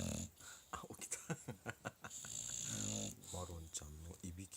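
A bulldog snores loudly and close by in a quick series of rasping, snorting pulses, with a brief voice-like stretch in the middle before the snorts resume.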